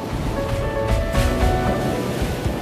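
Surf rolling onto Pantai Lange beach in Kampung Lamlom, Loknga, Aceh Besar, a continuous loud wash of breaking waves with broad rushing texture and no voices.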